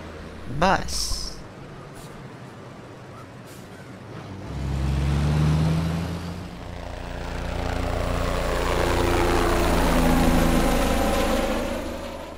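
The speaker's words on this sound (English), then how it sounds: "Bus." A short voice, then a heavy bus engine rumbles and idles, its low drone rising and falling as it revs.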